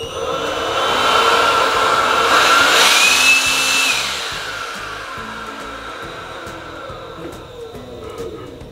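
A Xenon CDBL1845 18V cordless battery hand blower runs, a loud steady whooshing motor whine that rises in pitch as it spins up, holds, then winds down and fades.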